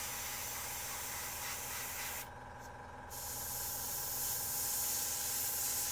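A Meeden 0.35mm airbrush sprays paint in a steady, close hiss that dips briefly in the middle before resuming and growing slightly louder, with no voices.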